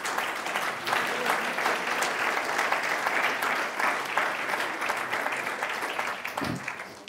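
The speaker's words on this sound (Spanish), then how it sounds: "Dale un aplauso a Cristo" A church congregation breaks into sustained applause during a Spanish-language sermon, dense clapping from many hands that holds steady, then fades slightly near the end.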